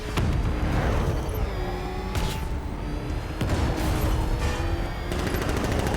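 Bursts of gunfire and rapid machine-gun volleys in the Batman Arkham City video game, loud and close with sharp repeated cracks over a busy combat din.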